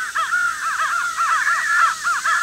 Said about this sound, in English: You can hear the higher pitch and the growling, basically. That's the fighting.